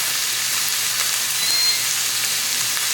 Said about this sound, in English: Fry these in the air fryer for just a few minutes.